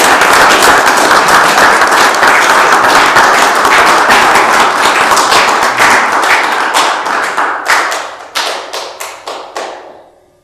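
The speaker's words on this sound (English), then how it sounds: "So another big round of applause." A township committee meeting audience bursts into sustained clapping that fills the room, then thins into scattered individual claps before fading out.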